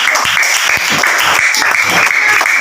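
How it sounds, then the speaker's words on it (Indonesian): Class 3 schoolchildren clapping in a classroom lesson, loud close bursts of uneven hand claps with a bright, boomy room tone, continuing throughout. "tepuk tangan buat kelas 3"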